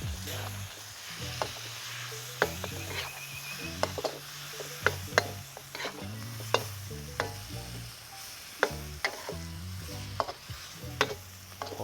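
Thai chicken curry sauce bubbling and reducing with celery in a pan, a low steady sizzle under frequent sharp scraping and tapping of a utensil against the pan, fairly quiet and without speech.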